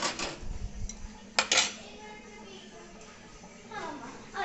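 A spoon clinks against dishes in a home kitchen, a few bright scattered clinks and scrapes, near and moderately loud, with a voice talking over them.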